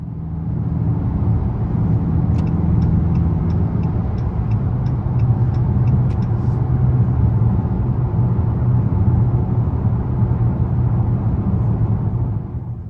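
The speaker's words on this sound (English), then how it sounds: "That freed up exhaust does give you a crackle on the upshift" A 2022 Dodge Charger RT Plus with a freed-up exhaust drones steadily from inside the cabin, a constant low engine and road rumble, with a run of small rapid ticks early on and no voices.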